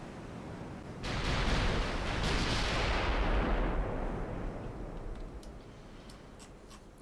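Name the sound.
15-inch naval guns firing in a video game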